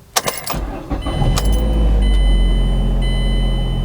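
A car engine turns over after a few clicks and key jangles near the start, then catches and settles into a loud, steady close-up idle with a faint warning chime sounding above it.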